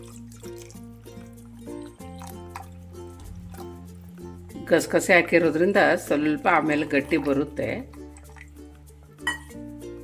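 Water is poured into a claypot mackerel fish curry thickened with poppy seeds, making a few seconds of splashing and trickling amid soft background music, with someone speaking before and after.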